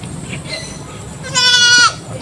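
A goat on a Philippine backyard farm gives one loud, clear bleat near the end, close by over quiet ambient background.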